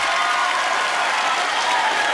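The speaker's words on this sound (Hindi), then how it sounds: "जोरदार तालियां" A studio audience at a comedy talk show claps loudly and densely, a steady wall of hand claps close by that holds evenly from start to finish, with no voices above it.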